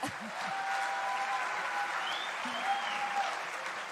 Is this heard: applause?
yes